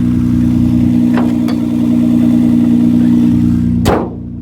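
A 1997 Toyota Camry XLE V6 engine runs steadily at a close, even idle with a low constant drone, a couple of faint clicks, and a brief louder whoosh near the end before the level drops.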